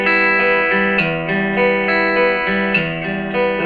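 Fingerpicked guitar arpeggio, individual notes plucked in a steady pattern with a bright, effected electric tone, each note changing about every half second and ringing into the next.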